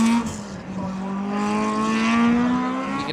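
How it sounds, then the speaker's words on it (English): Rally car at a Brands Hatch stage rally on the Indy circuit, engine note rising steadily as the wheels spin while it drops over a crest, loud and close with a sustained, climbing drone and no talk. "You can hear the wheel spin there just as the car drops over the crest and goes light on the suspension."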